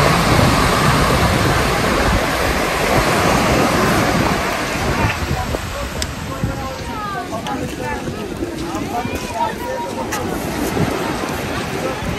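On Digha beach, heavy wind rushes over the microphone while surf rumbles continuously; the wind eases midway and voices chatter faintly over the steady wash of the sea.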